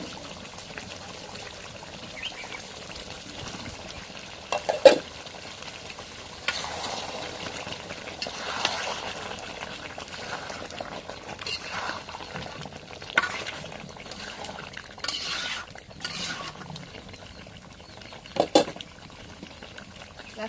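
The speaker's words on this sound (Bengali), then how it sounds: "এখন মাংসটা কষালে আলু দিয়ে দিই।" Meat with potatoes sizzling and bubbling in a pan, with scattered scrapes and clinks of stirring over a steady low fry, close and fairly quiet.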